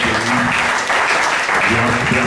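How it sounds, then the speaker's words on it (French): A church congregation applauding and cheering loudly at a service, dense continuous clapping with voices mixed in throughout. "si vous avez cru réellement, acclame Jésus"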